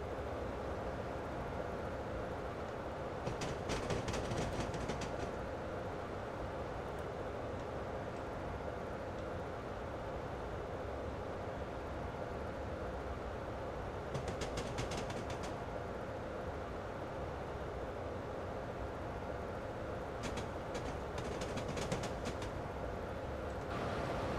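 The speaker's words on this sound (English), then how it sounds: "More diesel locomotives." Diesel locomotives passing along a rail line, a continuous rumbling roar with a few bursts of metallic clatter from the wheels, moderately loud and steady with no talk.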